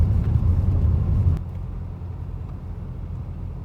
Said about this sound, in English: We are driving on gravel road, but I don't feel it.